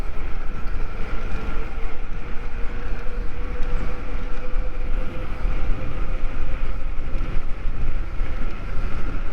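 A Monday Motorbikes Antero full-suspension mid-drive electric mountain bike makes a top speed run, giving a steady close motor whine over heavy, gusty wind and rolling rumble.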